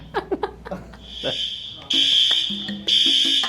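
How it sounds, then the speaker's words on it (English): A loud, piercing fire alarm sounding in repeated long beeps, with faint voices and light laughter beneath it at the start. "Apparently, we're having a fire alarm."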